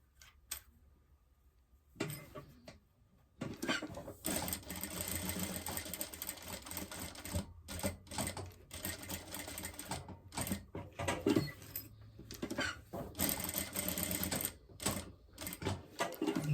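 A sewing machine topstitches the end of a zippered pouch, a close, busy run of rapid stitching broken by brief stops and fabric handling, beginning after a short quiet lead-in.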